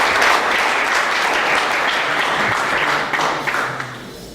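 An audience applauds at a book launch as the book's co-author is introduced. Dense, steady clapping fills the room for the whole stretch, then thins slightly toward the end.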